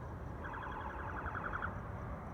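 A distant emergency siren wails faintly on a city street in Phoenix, Arizona, its rising, wavering tone sitting over steady low traffic rumble and background noise.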